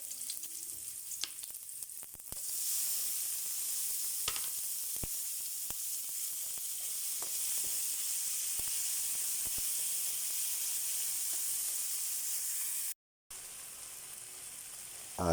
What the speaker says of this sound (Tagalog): Magigisa na po tayo. Bawang. Lagyan na natin yung kamatis